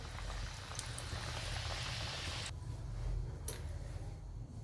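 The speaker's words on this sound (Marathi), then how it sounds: "आता राहिलेले मी अशा तळून घेते" Sweet bajra flour kapanya deep-fry in hot oil with a steady, dense bubbling sizzle that stays fairly quiet and continuous throughout, briefly thinning partway through, and no one talks.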